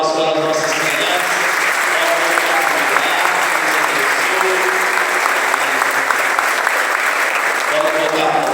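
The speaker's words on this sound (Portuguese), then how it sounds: "Uma salva de palmas para as nossas crianças." Steady, loud applause from a church congregation fills a Mass as the children are honored, a dense, continuous clapping that carries on without a break, with some voices mixed in beneath it.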